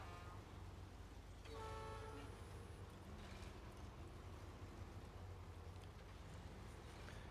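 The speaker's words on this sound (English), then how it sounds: "Honk horn." A truck horn in the off-road driving game SnowRunner honks in a sustained toot of about a second, standing out over a steady low engine rumble that continues throughout.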